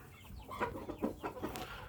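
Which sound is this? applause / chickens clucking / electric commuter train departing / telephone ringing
chickens clucking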